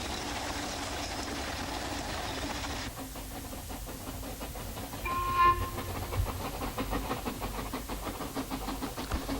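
The Festiniog Railway's heritage narrow-gauge train, led by the locomotive Prince with old four-wheel coaches, rolls along with rhythmic wheel clatter and hiss, and a brief shrill whistle sounds midway.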